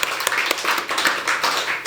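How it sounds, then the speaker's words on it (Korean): Congregation in a church clapping together after a prize announcement, a dense burst of applause with a few sharper claps standing out, steady and fairly close throughout. "박수, 큰 박수로."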